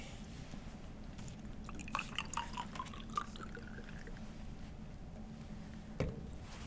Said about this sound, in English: fill it with cold water